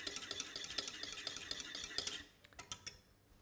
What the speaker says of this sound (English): drop it in, and then whisk it